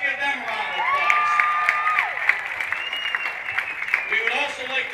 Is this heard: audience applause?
yes